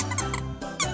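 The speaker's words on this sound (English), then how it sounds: "we've got a soft squeaky toy" A soft plush crab-shaped pet toy squeaks a few quick times, close and fairly loud, with short high-pitched bursts packed into about a second and no talking.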